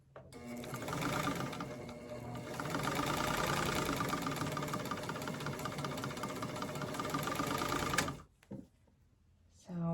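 A sewing machine chain-stitches half square triangles in a quilt block, whirring in a fast, steady, close hum for about eight seconds before stopping abruptly, with someone speaking over it.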